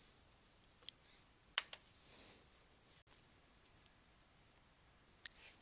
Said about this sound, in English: Just keep clicking the forward arrows until it finishes.